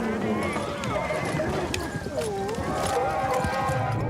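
A horse in a stable gives a wavering whinny amid steady hoof stamping and knocks, close and continuous, with people talking over it throughout.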